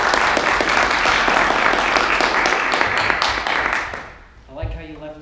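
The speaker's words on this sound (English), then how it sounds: "Let's give another round of applause to a first-time Toastmaster." Applause from a student Toastmasters meeting audience for a first-time Toastmaster, a steady wash of many hands clapping that fades out near the end, followed by a brief voice.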